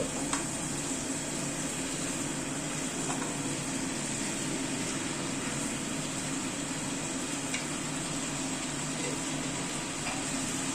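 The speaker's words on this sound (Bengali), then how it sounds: "চিকেনটাকে দিয়ে এবার সব মশলার সাথে একসাথে কষিয়ে নিচ্ছি।" Chicken sautés with spices in a pan for a Bengali chicken and potato curry, a soft, steady sizzle that runs evenly throughout, faint and without talking.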